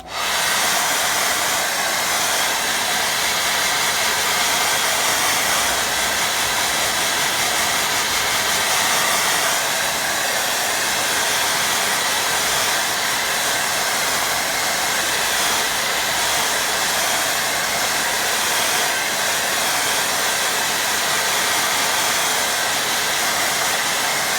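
A hair dryer blows steadily on a painting of a cloudy beach to dry the paint, a loud constant whooshing drone with no breaks and no voices over it.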